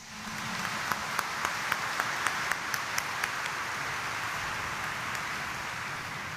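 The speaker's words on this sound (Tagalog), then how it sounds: "Ang naniniwalang diringgin ng kanilang panalangin, pumalakpak ng mas malakas" A church congregation claps together during a homily, a thick, steady wash of applause with some sharper, evenly spaced claps standing out early on, filling the space without any speech.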